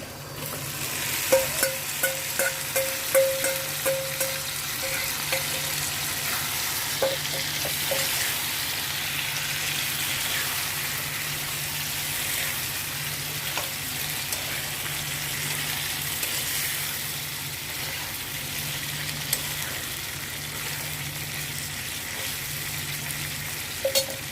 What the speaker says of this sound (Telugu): అల్లం పేస్ట్ ఫ్రై అయిపోయిందండి ఇప్పుడు చికెన్ వేస్తున్నాను